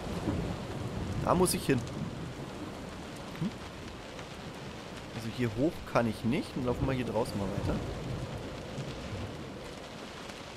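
Steady downpour and a distant rumble of thunder in the video game Close to the Sun, continuous rain noise running throughout beneath someone talking casually in German, with footsteps-like shuffles in the middle.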